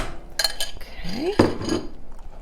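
Utensil scraping and clinking in a pan as sour cream and green chili sauce are stirred together over medium heat, a few metallic clinks and a scraping sweep, close and moderately loud with no talking.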